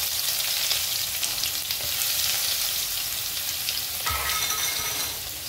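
Mustard seeds, cumin and coarsely crushed garlic fry in hot oil for onion chutney, a steady close sizzle with scattered seed pops and crackles, a brief clink near the end, and no talking.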